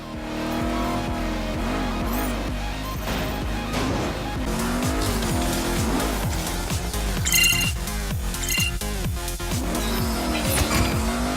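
Race cars in Agents of Mayhem roar with sweeping, rising and falling engine pitch, and tires squeal and skid repeatedly throughout, loud and continuous.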